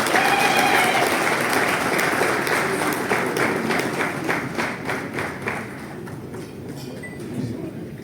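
An audience applauds at a celebration in a hall, loud sustained clapping that gradually thins and fades toward the end, with a few rhythmic claps standing out.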